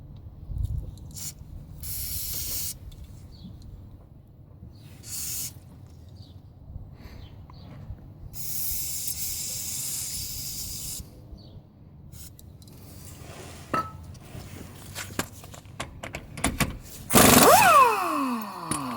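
Lubricant is sprayed from a can onto nuts on the rear leaf springs of a 1970-1981 Camaro or Firebird, in several short, close hissing bursts separated by quiet gaps. A louder burst and a clatter come near the end.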